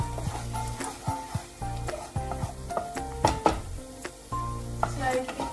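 Ingredients sautéed in a pan on a low flame for white sauce pasta: soft sizzling under repeated clinks and scrapes of a utensil against the pan, close and uneven in rhythm.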